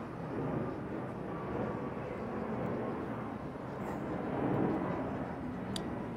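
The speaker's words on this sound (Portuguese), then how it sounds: "Lá vem o avião de novo" An airplane passing overhead produces a low, steady distant rumble that swells slightly and fades, with no speech over it.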